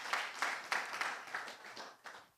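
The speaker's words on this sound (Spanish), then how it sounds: "Vamos a darle un fuerte aplauso al Señor." A church congregation claps in a steady, rhythmic beat, with about eight distinct clap bursts at an even pace, heard faintly and at a distance.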